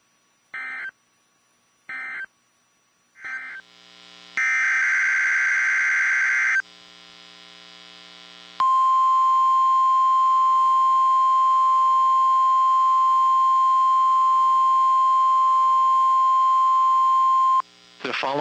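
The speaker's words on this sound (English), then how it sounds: "This concludes the tone alarm test." NOAA Weather Radio weekly test: three short data bursts of warbling screech, a long harsh attention tone, then a loud sustained pure 1 kHz alarm tone lasting about nine seconds, ending with another burst.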